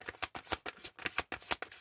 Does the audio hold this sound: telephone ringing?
no